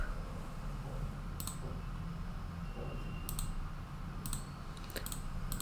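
JavaScript code typed on a computer keyboard, scattered clusters of light key clicks over a steady background hum, fairly quiet and without speech.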